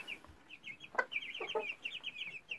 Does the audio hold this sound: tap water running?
no